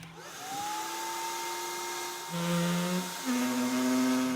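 A floor polishing machine grinds polished concrete while removing an acid stain, a loud steady motor whine with tones that shift in pitch as the machine moves, close and continuous with no speech.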